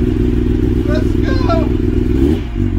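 A 2021 Kawasaki ZX-10R with a freshly installed Akrapovic full racing exhaust idles in a loud, close, steady low rumble, with a voice speaking briefly over it.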